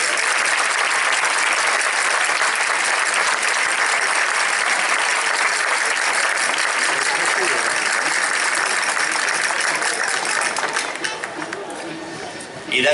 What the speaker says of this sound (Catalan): Fort aplaudiment, per ell.